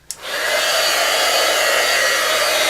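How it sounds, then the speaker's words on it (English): A heat gun starting with a click and then blowing a steady, loud, even whoosh of hot air close by while an embellishment held in tweezers melts. "I'm going to take my tweezers, hold this with my tweezers, and I'm going to use my heat gun, and let's watch it melt."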